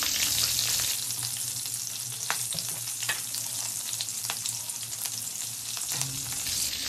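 Green chillies frying in hot oil left over from frying fish and pointed gourd, a steady close sizzle with faint crackles running throughout, alone without voices.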